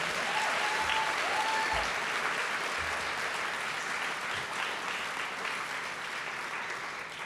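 Sustained audience applause at a journalism day awards event, a dense, even wash of clapping that holds steady throughout with a couple of faint tones in the background.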